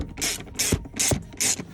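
A ratchet tightens T50 screws on Recaro seat mounts in a Vauxhall Corsa, making four evenly spaced bursts of rapid clicking, each with a short rasping pull, close and fairly loud.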